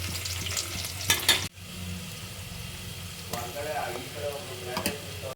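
Ginger garlic paste sizzles and fries in a pan while being stirred for a chicken pulao, a steady crackle broken by a few clanking scrapes of the spoon against the pan.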